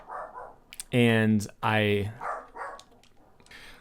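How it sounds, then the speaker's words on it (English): A dog barks indoors, two loud, close barks in quick succession, with a person speaking softly before and after. "Sorry about that dog. He is obnoxious."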